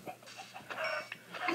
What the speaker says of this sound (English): Don't kill the chickens.